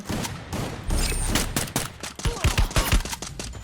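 Gunfire in the mobile battle royale game Free Fire, rapid bursts of shots and sharp cracks, close and loud, with a fast stuttering rhythm over game background noise.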